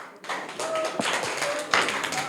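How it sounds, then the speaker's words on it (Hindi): An audience at a school quiz show claps for a schoolgirl contestant in a brief, light burst of applause with scattered taps, close by and lasting a couple of seconds. "इनके लिए सम्मान में एक बार ताली बजा दीजिए"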